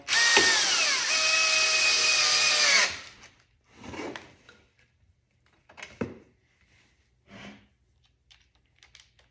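A power tool whirs close and loud for about three seconds while snugging the swivel seat bolts on a GTX 300 Limited, then falls silent apart from scattered handling clicks and knocks.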